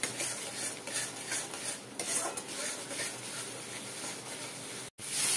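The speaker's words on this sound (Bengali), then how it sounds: "এবার এটাকে বেশ ভালো করে নাড়ানাড়ি করতে হবে" A potato-peel mixture is stirred in a pan with water, giving steady scraping and clinking strokes against the metal over a soft background hiss, broken by a brief gap near the end.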